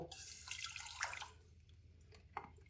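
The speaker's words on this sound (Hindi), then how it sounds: "2 गिलास यहाँ पे पानी के ऐड कर देंगे" Water, about two small glasses of it, is poured into a cooking pot for a homemade hair remedy, a faint splashing trickle with brief drips in a quiet room.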